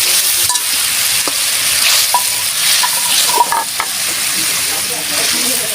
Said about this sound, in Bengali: এবার আমি এই যে পটলটা ভেজে রেখেছিলাম এটা দিয়ে দেব।